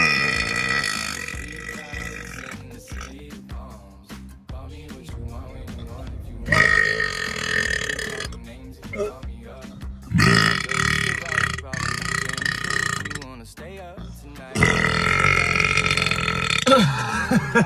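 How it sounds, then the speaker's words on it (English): A man lets out several long, loud burps in separate bursts, each standing alone between quieter gaps. "Like and subscribe for more burps."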